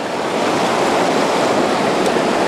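Rushing white water in a small stream near Lake Superior, a steady broadband wash of turbulent flow that stays close and even throughout with no talking.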